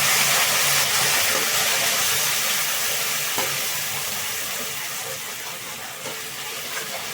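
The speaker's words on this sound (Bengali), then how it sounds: "এবার আমি মশলাটিকে খুব ভালোভাবে ভেজে নেব" Spice paste frying in a pan for an egg dish, a loud continuous sizzle and hiss close up that slowly eases over the seconds, with no talk.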